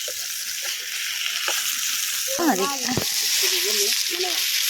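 Fish fries in hot oil with a constant bright sizzle, while a nearby voice briefly talks over the crackling.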